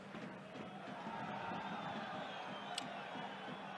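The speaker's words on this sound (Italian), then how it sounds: "palla fuori applausi dei pochi presenti al Ceravolo" Sparse applause and crowd noise from a small number of spectators at Catanzaro's Ceravolo football stadium during a match against Avellino, a faint, distant, diffuse murmur of clapping and voices held at a steady level.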